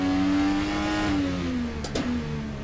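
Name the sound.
Dallara IR18 IndyCar engine revving in video game rFactor 2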